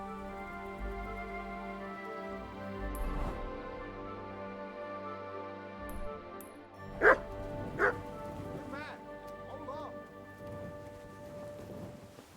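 A dog in Kingdom Come: Deliverance II gives two sharp barks close together midway, set against a steady bed of game music and soft rain-like ambience.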